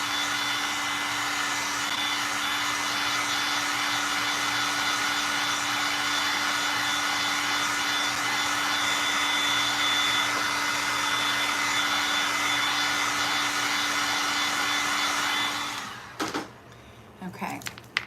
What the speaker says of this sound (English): I like having the heat tool, you guys, because it does dry the canvas faster.